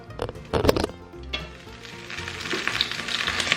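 Eggs fry in a pan with sauce, a close sizzling hiss that swells and stays steady, broken early by a few sharp clatters and knocks of stirring.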